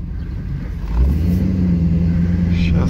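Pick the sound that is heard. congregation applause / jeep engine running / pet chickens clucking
jeep engine running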